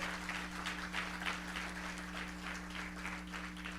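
Church congregation applauding during a Spanish-language sermon: steady, moderately distant clapping with a rhythmic pulse, under a constant low electrical hum.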